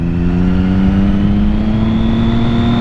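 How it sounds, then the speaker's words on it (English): Motorcycle engine revving loud and close, a Triumph Daytona 675 from 2006 or Yamaha YZF-R6 from 2007 supersport bike with cable throttle, its steady high whine climbing smoothly in pitch across the whole stretch. "This bike is so easy to rev match."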